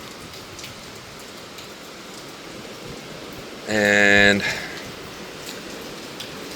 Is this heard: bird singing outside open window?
no